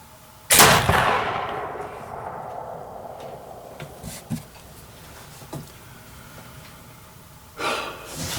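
Single loud gunshot from a Kibler Woodsrunner muzzleloader rifle loaded with 70 grains, a close, heavy boom with a long rolling decay, followed by quiet breathing and small handling noises, then another soft thump near the end.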